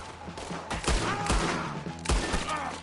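Gunfire bursts in Red Dead Redemption during a wagon-push shootout, several loud sharp shots and thumps spaced irregularly over a short span.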